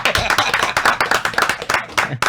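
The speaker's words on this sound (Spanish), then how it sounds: "¡Aplauso!" A small group claps for a guest journalist, Ulises Jiménez, with close, fast, steady hand claps over a short burst and faint voices underneath.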